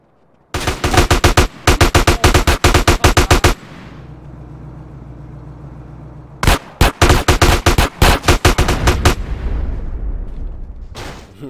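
Rapid bursts of automatic gunfire in GTA San Andreas come in loud, close volleys separated by a pause of low rumbling, then a second string of shots that trails into rumble.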